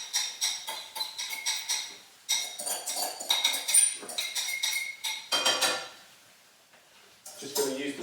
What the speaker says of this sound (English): Just going to use the spoon to get every last little bit out.